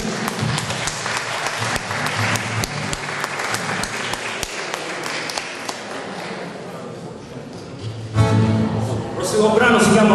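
An audience applauds a drummer at a band concert held at Bauso Castle during a cultural week, with dense, sustained clapping that fades slightly. Louder cheering and clapping swell again near the end.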